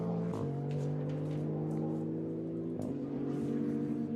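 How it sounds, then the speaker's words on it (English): A Maserati GT2 race car engine holds a loud, steady high-revving note near the finish line at Circuit Paul Ricard, with brief pitch dips as it shifts gears, sustained throughout without voices. "Maserati GT2 looked good, sounds good, and it's going to be a winning car as well."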